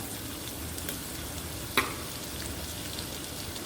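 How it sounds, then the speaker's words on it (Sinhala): Curry leaves, ginger and garlic frying in oil in a pan, a steady close sizzle with a soft crackle and one sharp tap of a utensil midway, without talk. "කරපිංචා, ඉඟුරු, සුදු ලූණු එකතු කරගෙන චුට්ටක් fry කරගන්නවා"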